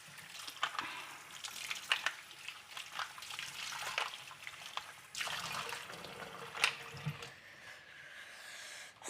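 Tap water runs and splashes over clams being rinsed in a kitchen, with irregular bursts of spattering and dripping, fairly close and moderate in level, with no voices.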